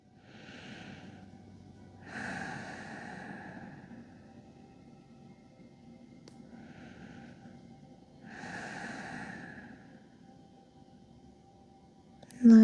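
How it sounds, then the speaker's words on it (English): Slow, deep breaths drawn in during a yoga pose, four long airy inhale-exhale swells spaced evenly and heard close and soft, with a faint voice near the end. "Three more breaths."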